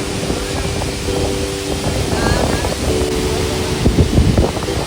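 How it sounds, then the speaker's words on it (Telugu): Rushing, turbulent water at Srisailam dam roars continuously and loudly, mixed with heavy wind buffeting the microphone and a faint low motor-like drone in the background. "ఇక్కడ నీటి యొక్క ఫ్లో మాత్రం వేరే లెవెల్లో ఉంది"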